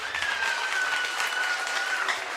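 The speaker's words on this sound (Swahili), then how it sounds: "Makofi mengi kwa majaji wetu" An audience claps steadily for the judges at a school academic competition, a dense sustained round of applause filling the hall from start to finish.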